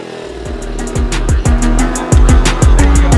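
A Ducati motorcycle engine revs loud and close during wheelie practice, its throttle blipped repeatedly so the pitch climbs and drops in quick, uneven bursts over a steady idle rumble.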